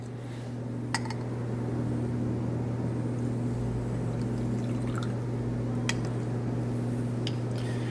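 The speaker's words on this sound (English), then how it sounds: "we will be adding 50 milliliters of water." Water, 50 millilitres, is poured into a lab beaker holding copper(II) sulfate, giving a steady, close liquid pour over a constant hum with a couple of sharp clinks.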